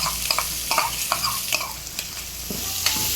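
Sliced onions fry with chana dal in hot oil, a constant crackling sizzle close by, broken by repeated rhythmic scrapes and taps of a spoon stirring the pan.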